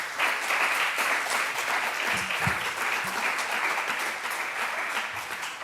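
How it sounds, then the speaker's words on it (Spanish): An audience at a national QGIS users' conference session applauds in a steady, dense wash of clapping that holds at an even level throughout. "Un aplauso, por favor."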